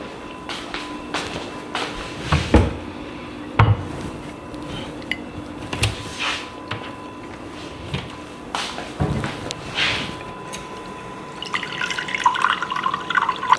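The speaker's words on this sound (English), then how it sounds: "Let's get some water." Water runs from a kitchen tap into a glass, with clinks and drips before a brief burst of flowing water near the end. The sounds are close, clear and free of talk.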